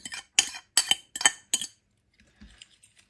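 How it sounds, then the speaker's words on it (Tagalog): Egg is mixed into hotcake batter in a bowl with a utensil. Five sharp, evenly spaced clinks against the bowl are followed by a few softer taps. "Mix natin lahat ng ingredients."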